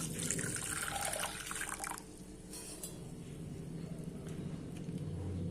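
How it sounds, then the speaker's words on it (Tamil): Water splashes and pours steadily into a pressure cooker for about two seconds, then a quieter running-water hiss continues in the background. "இப்போ நான் எடுத்து வச்சுருக்க தண்ணி இதில் சேர்த்துட்றேன்"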